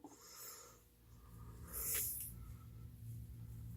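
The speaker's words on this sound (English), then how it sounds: "I'm just going to spray that a little bit more with the Fix Plus that I have in front of me." Fix Plus setting spray misted onto a Sonia Kashuk beauty sponge, one short faint hissing spritz in a quiet room, with a softer earlier puff.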